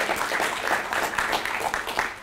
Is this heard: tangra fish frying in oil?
no